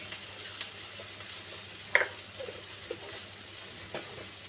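Okra frying in a pan for a mildly spicy home-style curry, a faint steady sizzle with a few soft clicks and stirring taps, no voices.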